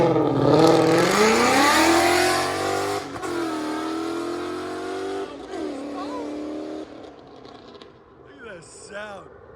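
A Ford Mustang GT 5.0L V8, E85 tuned with long tube headers and a Corsa Extreme exhaust with quad tips, revs loudly up close, then drops back to a burbling idle while people talk nearby.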